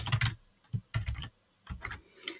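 Code being typed on a computer keyboard produces quick clusters of close, crisp key clicks in short bursts separated by brief pauses.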